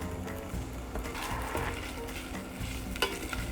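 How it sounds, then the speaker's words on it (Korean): Shrimp meat and carrot pieces stir-fry in olive oil in a pan for baby food, with a steady close sizzle broken by scraping stirs and a sharp clack near the end. "새우살과 당근을 넣어서 먼저 볶아주세요"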